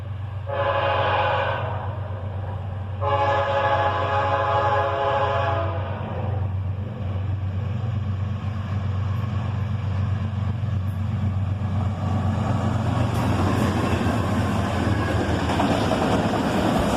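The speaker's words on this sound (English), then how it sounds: "A southbound CSX autorack train, led by a pair of sd50-3 DCs." A southbound CSX autorack train led by a pair of SD50-3 locomotives blows two long horn blasts, then rumbles past steadily, with wheel and car noise building and clattering toward the end.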